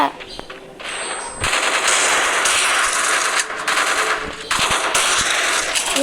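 Video game gunfire: dense, loud, continuous automatic shooting with only brief breaks, close and harsh across the whole stretch.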